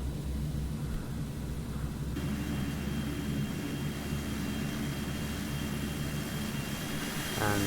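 A Fokker 50 turboprop climbs in the X-Plane 11 flight simulator, its engines giving a steady, loud droning roar with a faint high whine, and a voice briefly talks near the end.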